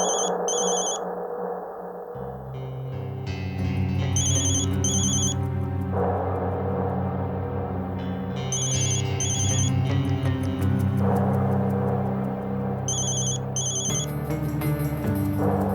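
A telephone rings in a Hindi TV drama scene, its electronic bell sounding in four short, evenly spaced bursts over a steady dramatic music score, with no talking.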